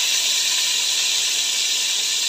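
Shrimp fry in hot oil with a loud, steady, close hiss that holds unbroken the whole time.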